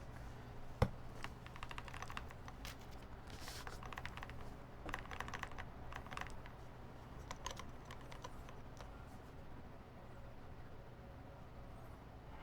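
Keycaps are set down onto a mechanical keyboard, producing scattered faint plastic clicks and taps at an irregular pace over a quiet background hum.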